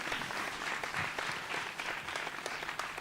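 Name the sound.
audience applause for the performer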